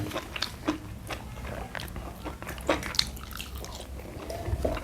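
Someone eats a boiled egg with pork, making close, soft wet chewing and biting sounds in irregular bursts over a low background hum.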